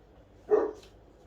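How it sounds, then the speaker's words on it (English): A single short dog bark rings out once, moderately close, in an otherwise quiet room. "my dog's barking, he wants to come in"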